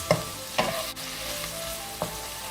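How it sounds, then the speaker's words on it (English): Firecracker prawns stir-fry in a pan with a quiet, constant sizzle and three brief spatula clacks spaced out against it; nobody talks. "Give it a quick stir. Time this 3 minutes. We're going to keep cooking these."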